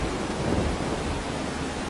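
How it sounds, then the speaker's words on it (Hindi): Steady rain with low thunder rumble in an animated children's story, a dense continuous wash of downpour noise filling the whole stretch without any voices. "अचानक बारिश आ गई और वो भीगने लगा"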